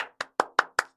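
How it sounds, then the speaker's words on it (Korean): Five sharp, evenly spaced claps ring out in about a second, close and fairly quiet, with no other sound around them. "박수!"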